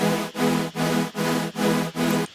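Serum super saw built from two detuned saw oscillators blended together, playing a buzzy, chorused chord in six even sustained stabs separated by short gaps, loud and alone.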